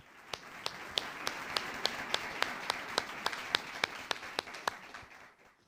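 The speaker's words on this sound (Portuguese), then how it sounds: "Uma salva de palmas ao Senhor." A church congregation claps during a Bible study service: faint, evenly spaced claps, about sixteen at a steady quick pace, then a louder sound right at the end.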